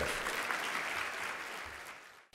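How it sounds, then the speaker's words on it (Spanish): Audience applause for a market research speaker at a Chilean corporate event, a dense, fairly quiet roar of clapping that holds steady and then cuts off sharply at the end. "Un aplauso fuerte, y cariñoso para ella."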